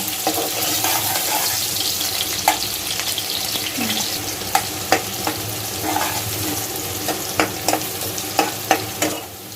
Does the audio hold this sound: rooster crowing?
no